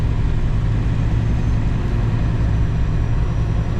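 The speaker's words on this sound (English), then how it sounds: "When the reefer unit's behind you, it just seems quieter than when it's beside you right out your window." Refrigerated trailer reefer unit running steadily behind a Kenworth W900 truck, a constant low droning engine rumble that stays even and unbroken throughout, with no talking.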